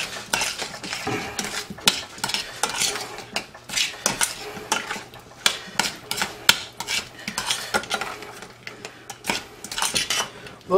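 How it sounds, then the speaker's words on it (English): Drained onions are stirred into a pot for creamed onions, with a spoon repeatedly scraping and clinking against the metal in an uneven rhythm of close, sharp knocks over a low kitchen hum, and no talking. "we're just going to dump the onions in here, get them mixed in there pretty good"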